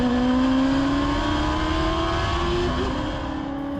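A Rush SR race car's high-revving four-cylinder engine screams at high rpm, a loud sustained tone climbing slowly in pitch and holding steady, with no talking.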